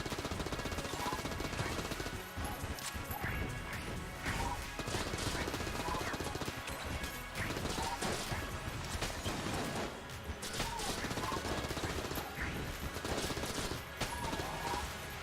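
Rapid gunfire from a weak gun in Enter the Gungeon, loud bursts of shots crackling steadily through the whole stretch amid busy game effects, with no pause.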